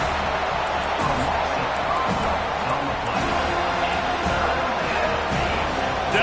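A stadium crowd in an NCAA college football video game roars steadily through a tense third down, a dense, continuous wall of cheering with scattered louder shouts.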